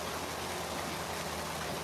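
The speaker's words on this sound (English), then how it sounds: "the waterfall fountain is loud" Waterfall fountain splashing beside a loud interstate, a dense continuous hiss of falling water with steady road rumble beneath, unbroken and close.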